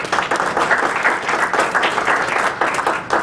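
Audience applause at a chamber of commerce candidate forum, a steady wash of many hands clapping that stays loud and dense throughout.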